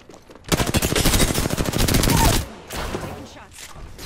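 Automatic gunfire in the Apex Legends battle royale: a loud, fast, steady burst of shots lasting about two seconds, followed by quieter, scattered shooting further off.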